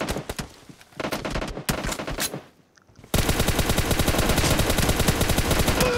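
Video game gunfire in PUBG Mobile comes in rapid automatic bursts, then a brief lull before a loud, sustained stream of shots that runs to the end, with no talking.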